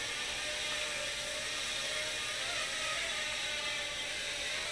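A Senxiang S42 Exquisite drone flies with its motors and prop guards producing a steady, high whine with buzzing overtones that stays even and close for several seconds, with no talk.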